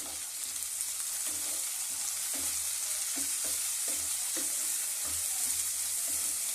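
Sour tomatoes frying for masala rice, a steady bright sizzle running throughout with soft periodic scrapes of stirring, close and alone without voices.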